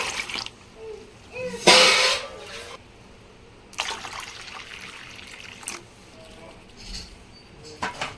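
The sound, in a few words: water poured into pani puri mix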